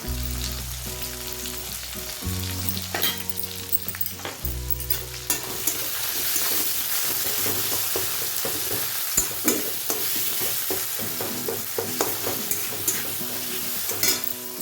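Spice masala with coriander powder fries in a pan, giving a continuous sizzle, while a utensil scrapes and taps against the metal in frequent stirring strokes. A low background hum runs through the first few seconds.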